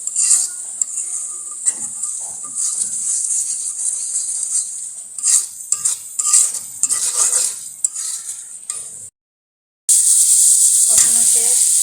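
Onion, garlic and green chili frying in oil in a pan for a dried fish bhuna, a loud bright sizzle broken by frequent spoon scrapes and clatter, with a short silent gap before the hiss returns.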